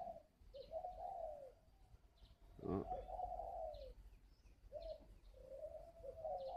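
A spotted dove coos in repeated low, mellow phrases with short pauses between them. A brief sharp knock sounds midway through, and one short spoken word is heard.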